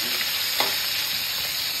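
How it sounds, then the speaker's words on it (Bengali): Pomfret fish frying in oil, a continuous loud sizzle heard close, with one brief spatter or stir partway through. "ভাজা ভাজি চলছে এখন পমফ্রেট"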